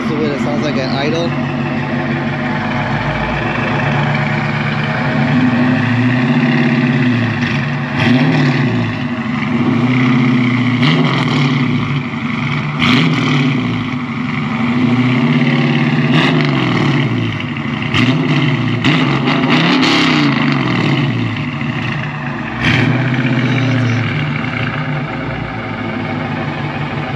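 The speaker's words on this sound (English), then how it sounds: "this is what it sounds like at idle." Idling engine of a freshly tuned car, a loud steady low rumble with a lumpy, pulsing idle that wavers in level over nearly half a minute, with someone talking over it throughout.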